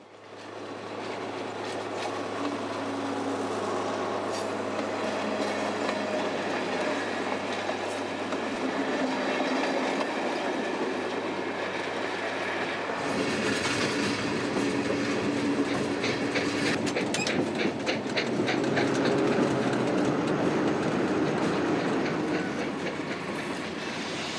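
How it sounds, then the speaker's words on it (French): A railcar slows through a cutting on its approach into Paris Gare du Nord, a sustained loud rumble with rhythmic clickety-clack of wheels over rail joints and faint squeals as it decelerates. "l'autorail ralentit dans la tranchée pour faire son entrée en gare du Nord"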